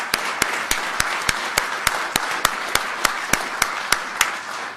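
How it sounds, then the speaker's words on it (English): At a December 2018 city council meeting, applause for the police department comes through as a steady, evenly spaced run of sharp, loud claps over faint background noise. "a huge round of applause to our police department"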